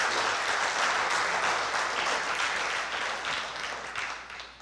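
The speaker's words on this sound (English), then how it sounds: "if you could give him a round of applause, I would appreciate that." An audience applauds at a hall of fame induction ceremony, a full, sustained round of clapping that gradually fades out over a few seconds.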